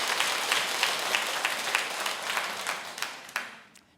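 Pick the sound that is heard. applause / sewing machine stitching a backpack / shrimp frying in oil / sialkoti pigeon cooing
applause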